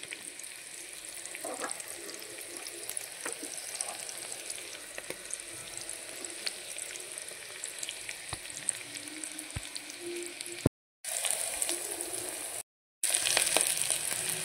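Thinly sliced garlic fries in oil with a steady, soft sizzle and crackle, interrupted by two brief silent gaps.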